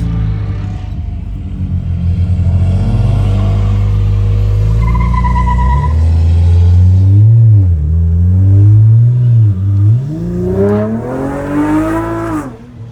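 A car does a burnout in a public burnout box on historic Route 66, a loud, close engine roar with rising and falling revs and screeching tires, building into a long sustained howl, with no talk.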